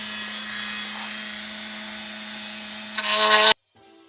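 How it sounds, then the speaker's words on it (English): A Dremel with a router bit widens a slot in a Porsche 987 side splitter, giving a steady high-pitched grinding whine up close that rises in harshness briefly before cutting off abruptly. "we're going to open that up with a Dremel and a router bit"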